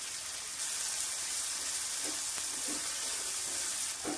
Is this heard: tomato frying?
yes